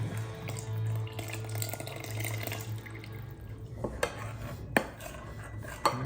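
Ingredients being worked into flour in a mixing bowl for a cinnamon twist bread, with soft scraping and stirring, clinks of utensils against the bowl and a few sharper knocks toward the end.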